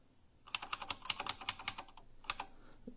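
A short run of loud, crisp buckling-spring key clicks on a Unicomp Ultra Classic keyboard in steady rhythm, then a pause and a couple more presses, close up.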